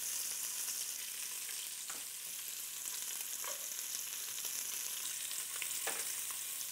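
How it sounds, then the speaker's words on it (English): Meatballs fry in a pan with a soft, steady sizzle and a few faint clinks, quiet and without speech. "So I'm gonna start pulling them out and cooking the rest"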